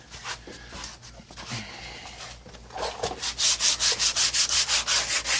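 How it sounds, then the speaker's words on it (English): Hand sanding with 120 grit sandpaper on the painted hood and fender of a 1998 Mercedes C230, starting with a few scattered scrapes, then a quick run of rhythmic back-and-forth rasping strokes, close and fairly loud. "we're just gonna smooth out this portion here real quick with some sandpaper"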